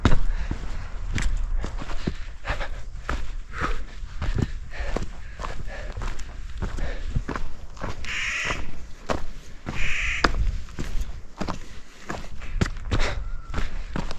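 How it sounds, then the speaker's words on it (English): A crow caws repeatedly and loudly beside a mountain trail on Arizona's Humphreys Peak, its harsh calls rising over the steady crunch of hiking footsteps. "What is that, a crow?"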